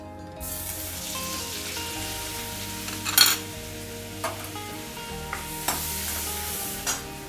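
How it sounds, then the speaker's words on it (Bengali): Butter and a spoonful of oil heating in a frying pan, with a steady close sizzle and a few stirring knocks and scrapes on top, no talk. "এবার আমি সবজিগুলো ভেজে নেব।"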